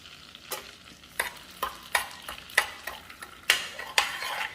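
Light brown sugar is stirred into melting butter in a pan, a spoon scraping in regular strokes about every half second over a soft sizzle, close and fairly quiet.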